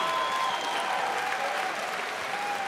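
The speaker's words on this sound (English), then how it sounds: "Ladies and gentlemen, a round of applause for these two fighters." An arena crowd at a kickboxing event claps steadily and loudly for two fighters, a dense, continuous wash of applause with no voices on top.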